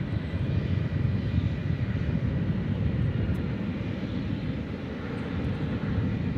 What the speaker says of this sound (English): So, there goes our MD. MD, the doctor of aviation, the MD-11.